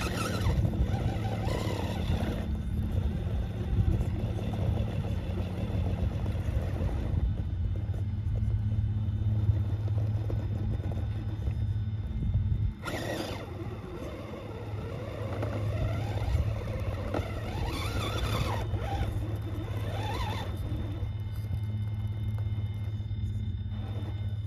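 A neighbor's lawn mower runs in a nearby yard, a continuous low droning rumble heard from a distance, dipping briefly midway before resuming steadily.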